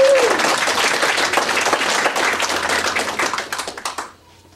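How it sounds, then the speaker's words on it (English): An audience at a Ron Paul liberty rally in Southeast Kansas claps loudly and densely, the applause thinning into scattered claps before fading out. "you all deserve a huge round of applause for what you've done tonight"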